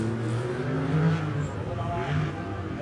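Jimmie Johnson's black race car powers away at a Race of Champions event in Sweden, engine droning and accelerating at a distance under a commentator's voice.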